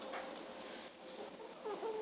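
Chickens cluck faintly inside a coop on a winter day, with soft, scattered clucks over a quiet, steady background.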